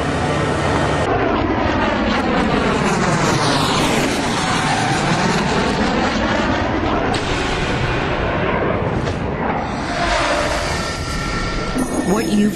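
An airplane rolls fast along the ground in a loud, continuous engine roar that rises and sweeps in pitch as it passes close by, steady throughout with no talk.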